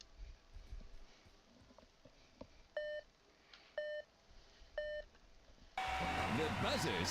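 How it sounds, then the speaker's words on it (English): A match-start countdown in the Robot Arena 2 video game: three short electronic beeps about a second apart, followed by a loud, sustained buzzer blast with noisy arena sound. "The buzzer signals the start of the match."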